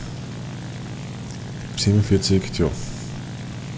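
Mitsubishi J2M2 aircraft engine droning steadily in War Thunder, a low continuous propeller hum running underneath while someone speaks briefly in the middle.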